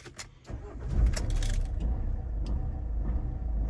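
A Vauxhall Combo van with a clutch switch fault cranks and fires up, its engine settling into a steady, loud idle rumble close by after a brief jangle of keys.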